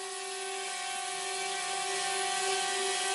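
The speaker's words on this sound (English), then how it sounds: "So she's going to get it flying here. Successful. Aircraft will take off." A DJI Spark drone takes off and flies, giving a steady high-pitched propeller whine with a strong tonal buzz that swells slightly in loudness throughout. No voices are heard.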